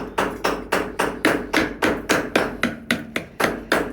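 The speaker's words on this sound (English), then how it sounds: "one thing you do is hammer them down" Hammer blows flatten the sharp cut end of a copper rose stem, about fourteen evenly spaced metallic strikes ringing close and loud in a steady rhythm, with no voices.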